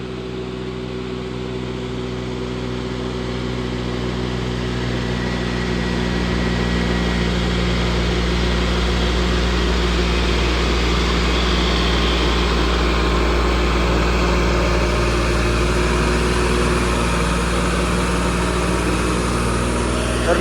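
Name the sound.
John Deere tractor engine hauling a 24-25 ton load uphill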